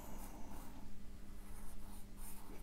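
A brush writes Japanese semi-cursive characters on paper, giving a soft, continuous, faint swishing rasp with no voices.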